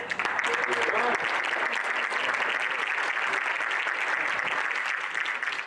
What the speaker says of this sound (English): If we can hold the applause towards the end.